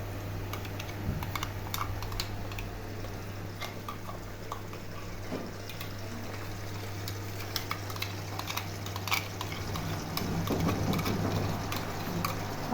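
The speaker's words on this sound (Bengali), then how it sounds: "আদা রসুনের পেস্টটা দিয়ে ভালো করে একটু আদা রসুনের পেস্টটাকে নেড়ে নেবো তেলে।" Ginger-garlic paste is stirred into browned onions frying in oil, a steady sizzle running under quick scraping and tapping of the spoon against the pan.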